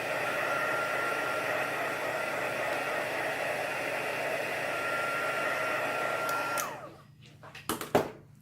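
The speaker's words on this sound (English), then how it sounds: "I'm going to pick it up and blow dry it because I want it to be dry before I do the next step" A hair dryer blows steadily and loudly on a polished stone craft piece for about six and a half seconds, then switches off, leaving a few faint clicks and handling knocks.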